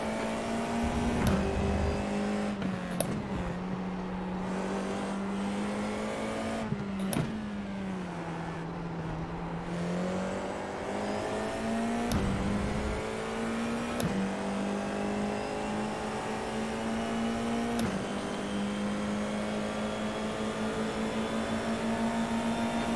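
Formula 4 race car in the iRacing sim at Barcelona, engine droning and revving steadily through upshifts and downshifts with sharp pitch changes, loud and close with no talking.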